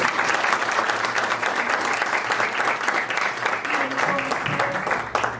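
Loud, sustained applause from a conference audience for panelists at a sustainable local development event, dense steady clapping filling the whole stretch, with faint voices murmuring underneath.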